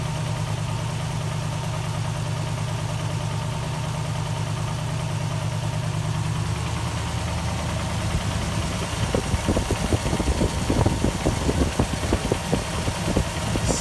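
A 1968 Rover P5B with a V8 engine idles after its first start-up following a winter layoff, a steady low rumble that grows rougher and more uneven with pulsing knocks toward the end.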